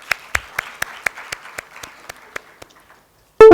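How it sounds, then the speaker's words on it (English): Audience applause for a team of change makers at a talk: a dozen or so distinct claps ringing out in a thinning rhythm that fades over a few seconds, then ends abruptly in a short loud burst. "Can I give them a big round of applause?"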